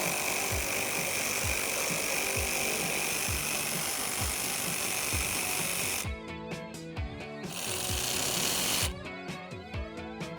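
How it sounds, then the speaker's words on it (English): A ratchet with a 10mm socket works a fender liner bolt on a Jeep Wrangler JL, giving a quick, even run of close clicks that gives way to denser mechanical rattling and tapping. "I'm going to use a 10mm socket to remove that."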